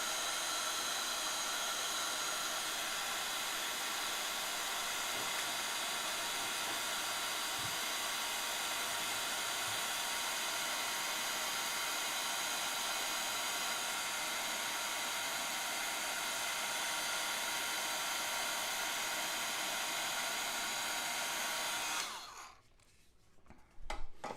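Heat tool melting embossing powder for stamping, a steady loud blowing whir running continuously for over twenty seconds before abruptly switching off.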